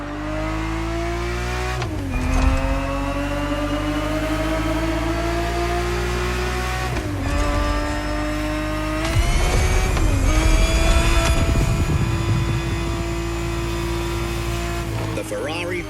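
Ferrari 365 GTB4 engine in The Crew Motorfest, a loud continuous rev that climbs through gears with brief shift dips, rising and falling in pitch, alongside tire and road noise.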